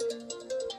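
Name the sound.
phone text message notification tone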